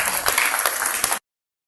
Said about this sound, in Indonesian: tepuk tangan untuk Amang Pendeta Kamari